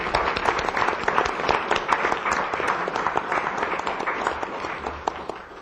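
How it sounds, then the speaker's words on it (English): Applause for new graduates at a city council meeting: a modest room of people clapping steadily for several seconds, dense and even, with no talk over it. "So how about a round of applause for our new graduates."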